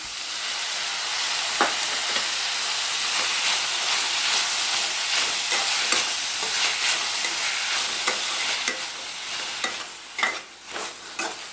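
Radish and tomato sauté in a pan for a vegetable kulambu, a loud, continuous close sizzle with spoon clicks and scrapes that grow more frequent and sharper toward the end.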